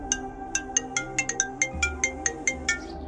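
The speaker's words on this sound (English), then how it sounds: "Gwen's phone rang." A phone ringtone plays a bright, repeating melodic pattern of short tones at a steady pace, clear and close for several seconds, with a low hum underneath.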